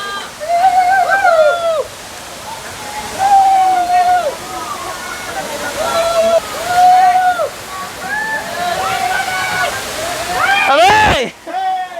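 A waterfall at Kapildhar on a hill climb roars as a steady broad wash throughout, while people talk and call out over it and a brief loud rustle comes near the end.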